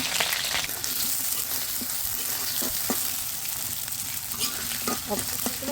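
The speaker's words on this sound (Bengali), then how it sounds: "কড়াইতে প্রথমে তেল দিয়ে দিলাম পেঁয়াজ কিউব করে কেটে রেখেছিলাম ওটা দিয়ে দিলাম তেলের উপর" Diced onion cubes frying in oil in a kadai (wok), a steady close sizzle with scraping stir strokes throughout, no talk.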